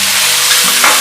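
Shiitake, carrot and wood ear mushrooms sizzle loudly in a hot wok during a brief burst of stir-frying, with a bright continuous hiss and a quick scrape near the end.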